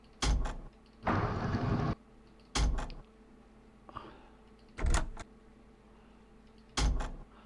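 Door sound effects previewed in the Unreal Tournament 2004 UnrealEd map editor: a series of short mechanical slides and clunks with pauses between them, plus one longer sliding whir, all loud and clear without speech.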